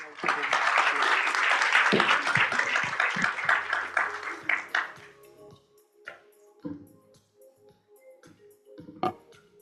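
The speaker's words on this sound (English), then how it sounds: "Please join me on a big round of applause to our speakers" Audience applause for the speakers after a conference panel session on Southeast Asia's dual transformation, loud broadband clapping for about four seconds that thins into scattered claps and fades, with a few isolated claps near the end.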